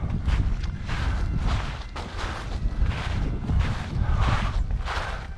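Strong wind buffets the microphone at an RC airplane flying field, a loud continuous low rumble with gusty surges and thumps that never lets up.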